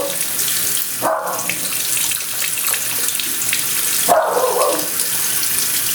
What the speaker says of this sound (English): now the dog's barking like crazy